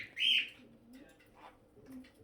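Pet birds in a home chirp with one loud, bright call near the start, followed by fainter, softer chirps and low murmurs.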